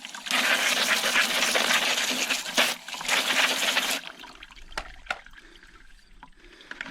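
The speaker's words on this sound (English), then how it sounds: "Then we'll grab our spray nozzle and give them" A spray nozzle rinses stones with a steady rush of water, loud for about four seconds, then cuts off, leaving quieter drips and small clicks.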